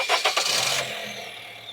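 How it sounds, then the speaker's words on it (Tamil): A Honda Jazz car engine cranks and catches over the first second, then settles into a steady idle hum, close and fairly loud, with no talking. "வாங்க அப்படியே இன்ஜின் பே சவுண்ட் எப்படி இருக்குது."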